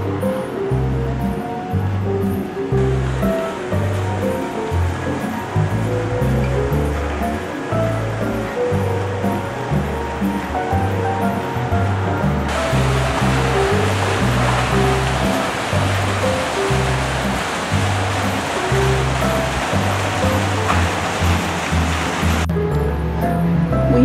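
Running water at an indoor iceberg display, a loud continuous rushing flow with a steady rhythmic pulsing thump underneath, like pumped water or music, lasting throughout without talk.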